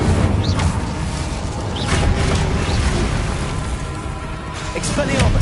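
An Incendio fire spell blasts in Hogwarts Legacy amid battle, a loud sustained roaring rumble with crackling bursts and mechanical clatter throughout, and voices faintly mixed in.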